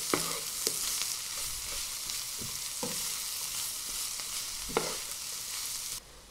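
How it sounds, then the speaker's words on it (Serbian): Onion and peppers fry together in a pan with a loud, continuous close-up sizzle, broken by occasional clacks of a stirring utensil, until the sound cuts off abruptly near the end. "Na omekšali luk dodajem papriku i sve zajedno pržim dok i paprika ne omekša."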